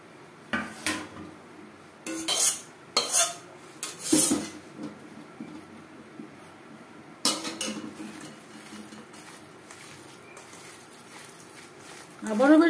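Mashed potato paratha filling with spices, tomato, fried onion and chopped coriander is mixed in a bowl: intermittent close scraping and clinking bursts separated by quiet stretches, with a faint voice at times.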